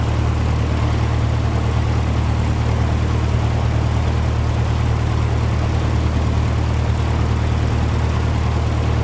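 A light propeller aircraft engine idles at low RPM, around 500, on a cold day at KTHV, a steady close, loud drone with a deep low hum that stays even throughout with no talk.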